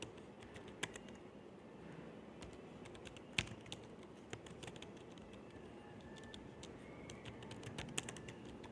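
Someone types on a computer keyboard while coding, a soft, irregular run of quiet key clicks with a few louder taps and no voices.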